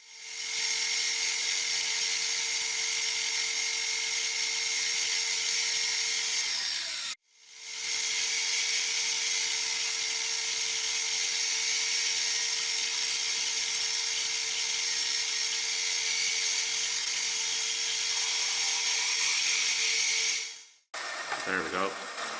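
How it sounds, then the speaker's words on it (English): A small high-pitched drill whirs close by, drilling holes in plastic in two long, steady runs with a brief pause between them. "Alright, so now it's on to drilling holes."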